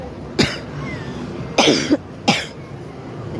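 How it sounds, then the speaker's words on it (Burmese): Several sharp human coughs: one at first, then a pair in close succession a second later, each a short harsh burst standing out over a steady background murmur, heard in a market in Singapore. "ဒီမှာ ချောင်းဆိုးနေပြီ"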